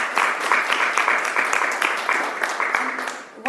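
An audience at a conference session breaks into sustained applause, a dense wash of many hands clapping that holds steady before tapering slightly at the end.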